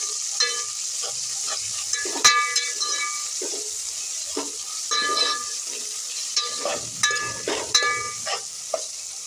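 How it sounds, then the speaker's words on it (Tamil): Tomatoes fry in a pan for vegetable biryani while a spoon scrapes and stirs them, giving a steady hiss and sizzle broken by repeated clinks and scrapes. No one talks. "இந்த ஸ்டேஜில் தக்காளி ஆட் பண்ணிக்கலாம். இப்போ நல்லா மிக்ஸ் பண்ணி விட்டுக்கலாம்."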